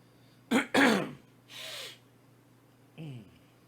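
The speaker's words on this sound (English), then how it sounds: "I'm trying to clear my throat." A person clears their throat indoors, with a couple of sharp, rasping bursts followed by a breathy exhale and a short vocal grunt, fairly close and moderately loud.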